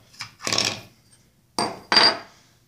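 A push dagger is worked out of its sheath in several scraping, rustling pulls: two short bursts, a pause, then two more. The sound is close and clear, with no talk.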